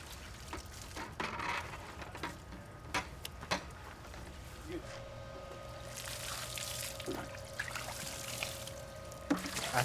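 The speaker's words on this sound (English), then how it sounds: "Putting a whole lot of water in here" Water pours at length onto a spalted log, a faint, uneven splashing and trickling broken by scattered ticks and knocks, with a steadier stream toward the end.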